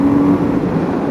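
A motorcycle engine accelerating uphill as the throttle is twisted, a loud close steady drone with a low tonal hum, no talking.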